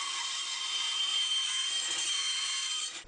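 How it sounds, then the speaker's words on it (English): Wood is cut by machine around a gear template glued onto the stock, a steady, close, bright sawing whine that runs unbroken for about three seconds before cutting off. "Next, we cut out the approximate shape of the circle around the gear template."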